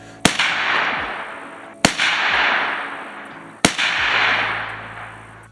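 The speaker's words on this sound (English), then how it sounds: "and then I shot another 3 rounds" Three sharp, loud AR-15 rifle shots at an outdoor range, spaced roughly 1.7 seconds apart, each with a long rolling echo trailing off before the next.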